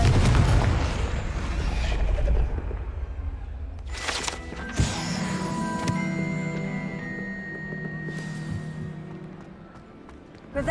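A Confringo fire spell bursts in the Hogwarts Legacy video game, a deep rumbling boom followed by a sharp crack and fiery whooshes that ring and fade over several seconds.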